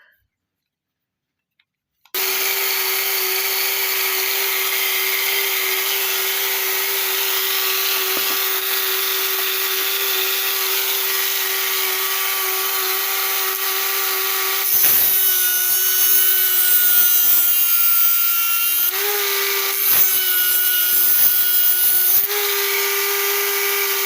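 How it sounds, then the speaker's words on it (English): A power sanding drum whines steadily and loudly, its pitch dipping and roughening in bursts as it grinds against a metal motorcycle primary part while prepping for a new stator. "we got the sanding drum on here"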